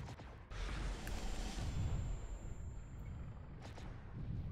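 Weapons fire in MechWarrior Living Legends, heavy artillery-like booms and mechanical rumbling rolling continuously through a dense, loud battle mix, with a sharp burst near the start and another near the end.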